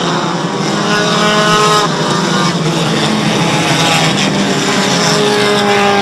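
Race cars on a track at a 2009 MSM Airborne event scream past in a continuous loud engine roar, several motors whining and overlapping at close to mid distance, with a race announcer talking over them.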